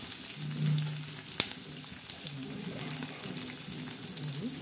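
Peanuts, tomato and coriander roasting in a pan as a tempering for upma, a soft steady sizzle with faint stirring scrapes, one sharp click, and a low hum beneath throughout.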